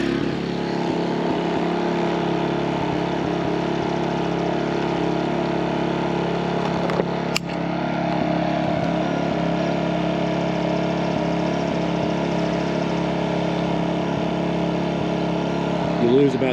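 A MaxPeedingRods 3200-watt inverter generator runs with a steady, loud drone close by, about 74 decibels with the exhaust pointing toward the listener, holding an even pitch throughout with one brief click midway.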